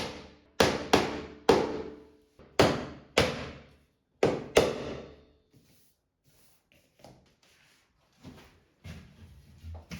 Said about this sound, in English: use a hammer to secure the stoppers